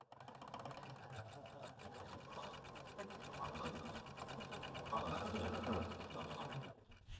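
A sewing machine stitching quilt borders and a small fence section, a close, continuous rapid mechanical whir with a fine rhythmic tick that builds slightly before stopping near the end.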